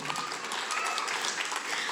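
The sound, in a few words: applause, clapping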